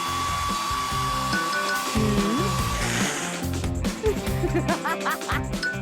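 Hair dryer in a tattoo studio video game, a steady electric whir that runs for several seconds before breaking into quacky, chirpy game effects.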